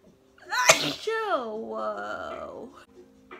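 A single loud, sharp sneeze bursts out abruptly, followed by a voice talking and a drawn-out vocal exclamation, during an Etude House eyeshadow makeup session.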